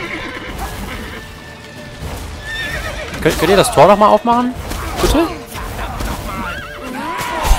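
A horse in The Witcher 3 video game whinnies loudly in a wavering, drawn-out neigh with a second shorter call, over clip-clopping hooves and game ambience while someone talks.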